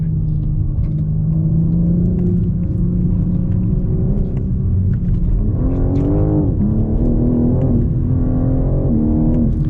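The inline-six engine of a 2021 BMW M4 Competition drones steadily from inside the car while driving, a low continuous rumble that rises into a revving growl partway through, with no talking.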